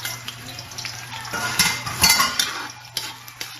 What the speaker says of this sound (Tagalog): Lagay ang bawang o garlic,